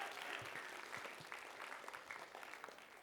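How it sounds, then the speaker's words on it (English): An audience claps together at a school writers' week event, a steady, dense patter of applause heard from a distance at low volume, with no break for the whole stretch. "Clap it up one last time for everyone we just talked about."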